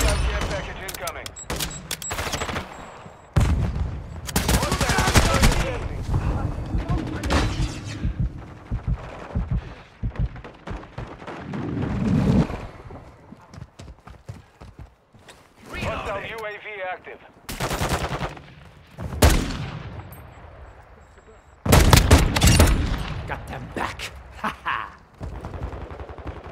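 Rapid automatic gunfire and explosions from a Call of Duty: Modern Warfare 2 match, coming in loud bursts separated by brief lulls, with game voice callouts in places.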